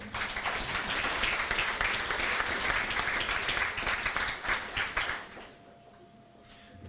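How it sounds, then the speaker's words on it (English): Sustained crowd applause at a high school sports banquet for the All Sports Boosters, dense clapping that fades out after about five seconds into a quiet room. "if we could give them a round of applause as well"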